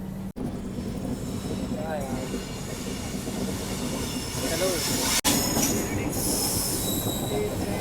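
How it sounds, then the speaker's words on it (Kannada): The Pune to Kanyakumari Express rumbles past close by, a continuous heavy roar with squealing wheels and metallic screeches, and a brief voice underneath. "ಇಲ್ಲಿ ಯಾವುದೋ ಟ್ರೈನ್ ಬಂದು ಬರ್ರಿ"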